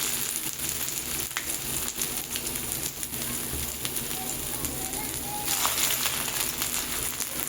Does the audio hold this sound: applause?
no